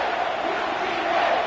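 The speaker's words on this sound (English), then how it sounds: "And you just know the home crowd is loving this." A home crowd in a Madden football video game, a steady, broad roar of cheering fans that holds at an even level throughout without distinct voices.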